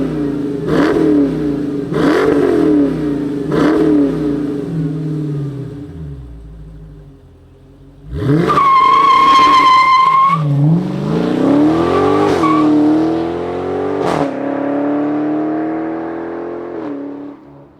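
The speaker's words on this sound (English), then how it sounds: "let's go start this up and see it go down the road in this 300C." A 2023 Chrysler 300C revs hard and accelerates down the road, its engine note climbing through several loud pulls with brief lifts, then a high whining surge and a sustained rising roar as it pulls away.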